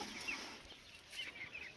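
Chickens, including a rooster, cluck softly on a small village poultry yard, a few faint scattered calls over low background noise with no talk.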